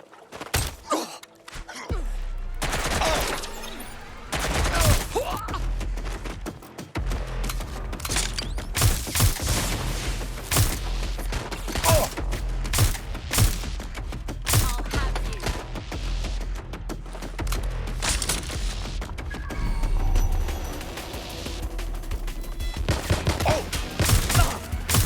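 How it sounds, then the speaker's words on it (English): Gunfire in the video game Watch Dogs Legion, loud bursts of shots and booms that fill the whole stretch, with dense rapid volleys, brief lulls and occasional gasps. "Shots fired!"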